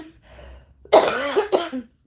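A soft cough or throat noise, then one loud, harsh cough followed by a second shorter one, close up with no talking.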